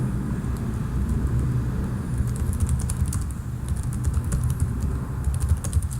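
Keys clicking on a computer keyboard while text is entered into a flowchart box, light irregular taps faint over a steady low hum of room or vehicle noise.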